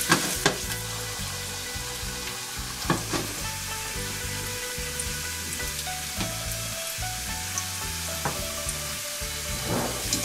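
Ginger sizzles steadily in a hot wok, with recurring scrapes and clinks of a spatula stirring it and a constant frying hiss underneath.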